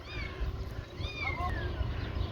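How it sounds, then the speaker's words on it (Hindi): A cat with its kitten meowing below, a few thin rising and falling mews, faint and somewhat distant over steady outdoor background noise, near a hill site in Medina. "वो देखिए नीचे बिल्ली अपने बच्चे को लेके वो नीचे पहुँच भी गई है"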